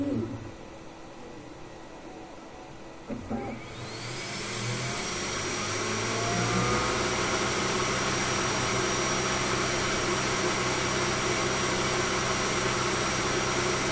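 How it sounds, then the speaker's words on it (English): Creality K1 Max 3D printer after its first layer, quiet mechanical clicks and motion, then a rising whir as fans and motors spin up into a loud steady hum with whining tones. "So after the first layer, the printer will stop, will scan the surface."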